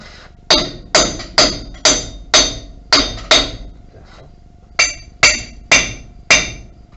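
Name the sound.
hammering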